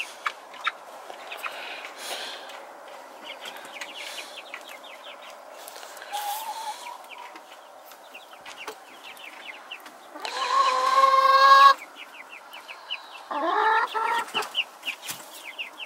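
Chickens and young chicks make soft clucks and high chirping peeps, scattered and close, with a louder burst of squawking partway through.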